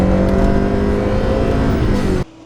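A tuned Honda Integra Type R with a forged, fully prepared VTEC engine revs hard and loud at close range, a steady high-rpm roar holding for about two seconds before cutting off abruptly.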